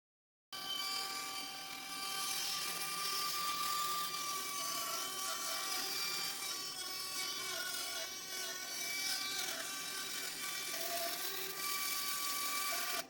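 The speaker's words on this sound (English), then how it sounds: "I'll trim off the excess wood using the bandsaw" Bandsaw trimming excess wood from the body of an Appalachian dulcimer, a steady, loud whining buzz with a high blade tone that runs continuously for about twelve seconds without any talk.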